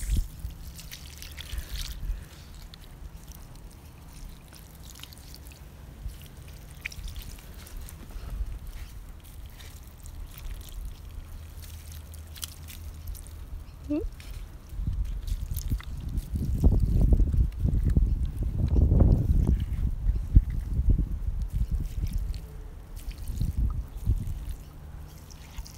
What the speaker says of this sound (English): So we'll just very carefully water all around the plants.